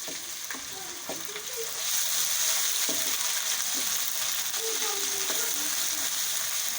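Ginger-garlic paste and green chili paste hit hot oil with fried onions, raising a loud, continuous sizzle that swells partway through, with scraping stirring strokes of a spoon against the pan.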